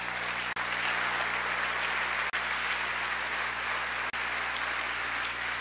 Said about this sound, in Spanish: démosle un aplauso a nuestro Padre